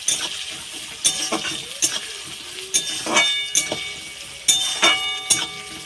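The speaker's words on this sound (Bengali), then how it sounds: "পেঁয়াজ কুচিটা একটু ভেজে নেব।" Chopped onions sizzle in hot oil for chicken do pyaza, with steady frying hiss broken by repeated sharp clinks and scrapes of a spatula against the pan.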